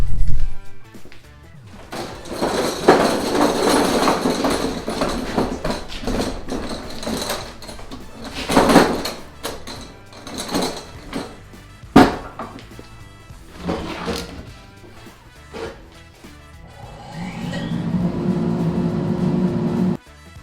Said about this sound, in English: Now I'm gonna run them through my planer so I can get them to a uniform thickness